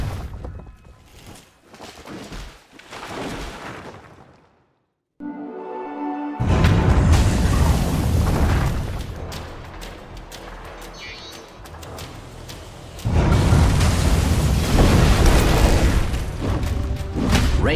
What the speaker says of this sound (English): It would appear Radiant's top tower is under attack.